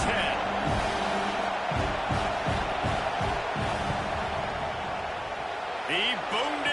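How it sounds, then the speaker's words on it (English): A steady stadium crowd roar from a college football video game as the kicker lines up for a field goal, a dense continuous wash with a voice rising briefly over it. "This crowd trying to do its part to get inside the kicker's head."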